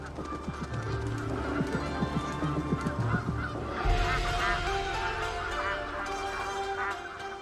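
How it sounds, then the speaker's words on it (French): A flock of bar-headed geese honks continuously as the birds fly over a network of waterways in the Mekong region, many overlapping calls rising and falling, loud and close, with a steady low rumble beneath. "L'oie à tête barrée survole tout ce réseau de cours d'eau."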